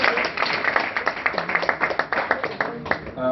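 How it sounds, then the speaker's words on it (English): A room full of people at a meeting claps in a dense burst of applause, close and lively, with a murmur of voices underneath as it tapers off. "A round of applause for that"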